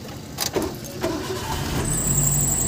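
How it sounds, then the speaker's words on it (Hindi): A modified 2002 Maruti Zen car engine starts up close by: a few clicks and a brief crank, then a steady idle hum that settles in. "तो भाई गाड़ी स्टार्ट हो चुकी है"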